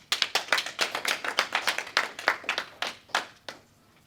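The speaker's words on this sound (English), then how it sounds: "some applause for Caden" Clapping for Caden at the Owlsy Awards 2023, a small audience applauding in distinct, separate claps that start together, keep a steady uneven patter, then thin out to a few last claps before fading.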